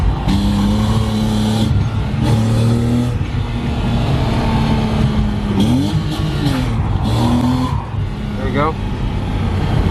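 A car engine revs loudly and steadily while drifting, its pitch rising and falling through bursts of acceleration, with people talking over it.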